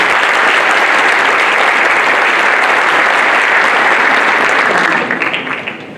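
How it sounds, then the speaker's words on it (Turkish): Loud, dense applause from a large audience at an energy summit opening speech in Batman, steady for about five seconds before tapering off into quiet. "Ben Allah dostu valimiz Ekrem Can Alp'e kocaman bir alkış istiyorum"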